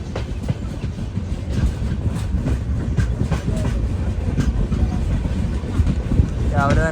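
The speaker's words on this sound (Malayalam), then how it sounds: "ട്രെയിൻ ഇതാ നീലേശ്വരം റെയിൽവേ സ്റ്റേഷനിലേക്ക് എത്തിക്കൊണ്ടിരിക്കുകയാണ്" A train pulling into Nileshwar railway station on a busy morning gives a continuous loud rumble with clattering wheels and wind buffeting the microphone. Faint voices are heard beneath the noise.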